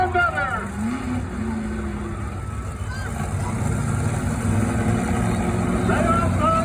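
A monster truck engine revs and roars at a stadium car-crushing exhibition on pavement, a continuous loud rumble that swells toward the end while an announcer talks over it.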